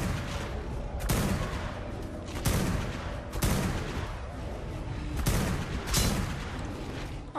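Heavy gunfire in a video game while sniping a Rex, with loud booming shots every second or so over a dense, constant roar of combat.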